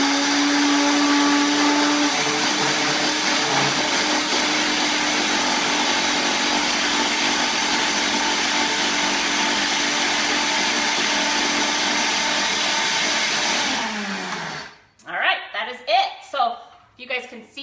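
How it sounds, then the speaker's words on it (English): A loud blender whirs steadily for several seconds while pulsing a creamy enchilada sauce, then cuts off abruptly, followed by someone speaking. "we're just gonna pop this on the blender and give it a quick pulse"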